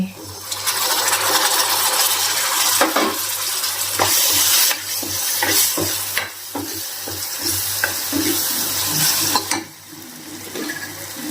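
Chopped tomatoes tip into hot spices in a pan and sizzle loudly, with a spoon stirring and scraping against the metal, and the frying hiss holds strong until it softens near the end.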